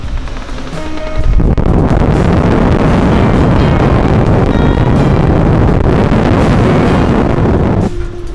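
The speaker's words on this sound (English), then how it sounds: "we've got a squall at the moment" Squall wind roaring over a sailing boat at sea on a passage from Australia to New Caledonia, a loud, steady buffeting rush that surges in after a second and holds at full strength until dying back near the end.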